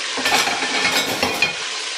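Chicken sizzles in hot oil in a home kitchen, a loud, continuous crackling hiss with a few light clinks of utensils and no voices.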